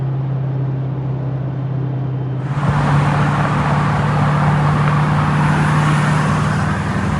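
A diesel Ford truck with a 6.0 Powerstroke engine drives in slow, heavy traffic, giving a steady close engine drone with a low hum that swells into a broader, louder roar of road and engine noise partway through.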